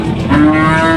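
A single loud, close cow moo rises from the crowd of cattle at a busy livestock market held for the Qurbani sacrifice.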